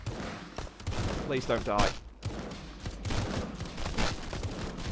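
Automatic turret gunfire in the shooter game RedEX, rapid bursts of shots cutting through the mix while a player talks anxiously over the action.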